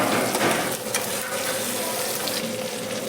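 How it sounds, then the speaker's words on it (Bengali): Chopped onion and tomato fry in hot oil, giving a dense, steady sizzle that holds at an even loudness for the whole stretch, with no voices over it. "তেলটা গরম হয়ে গেছে, আমি এবার পেঁয়াজ কুচানিগুলো দিয়ে দেবো।"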